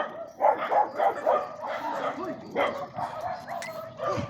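A dog barks repeatedly in short, fairly close bursts mixed with yips and whimpers, the barking continuing steadily throughout with some background voices.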